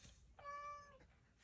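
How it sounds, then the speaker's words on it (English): A single drawn-out cat meow, faint and somewhat distant, rising then fading over a quiet background. "If you hear my cat screaming in the background, he wants more breakfast."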